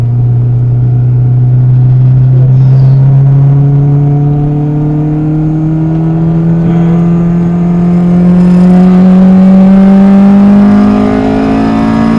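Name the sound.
Honda Integra DC2 with 1.8 NA four-cylinder Type R engine accelerating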